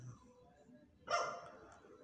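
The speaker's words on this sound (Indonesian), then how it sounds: "ada guguk lagi" A dog barks in one short burst partway through, at moderate distance over a quiet outdoor background, heard while a ride-hailing driver waits for orders.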